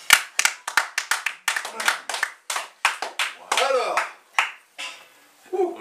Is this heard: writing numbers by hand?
no